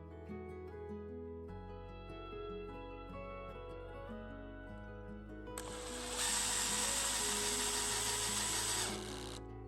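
A power driver whirs up in pitch as screws drive through metal into a porch enclosure, a rising motor tone ending in a loud, bright grinding burst near the end, close and without speech.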